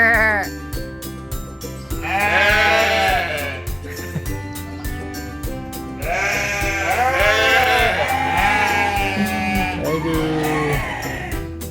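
Goats bleat loudly and repeatedly near a family wedding gathering in Ipoh, with long wavering cries coming in overlapping bursts over a background hum and people's voices.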